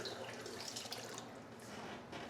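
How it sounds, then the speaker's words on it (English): Hot water pours from a hose, a steady, soft rushing and splashing stream close by with no talk over it. "there's about 80 liters of piping hot water"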